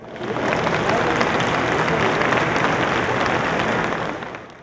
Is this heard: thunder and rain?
no